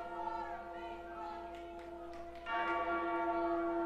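Tolling bells open a song as entrance music at a Pro Wrestling Malta event, with a sustained ringing tone and a fresh, louder bell strike partway through.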